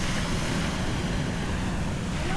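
Sea surf rolling onto a public stretch of Patar Beach in Bolinao, a loud steady roar of waves mixed with gusty wind buffeting the microphone.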